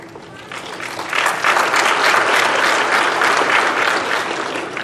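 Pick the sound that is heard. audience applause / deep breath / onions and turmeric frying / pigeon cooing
audience applause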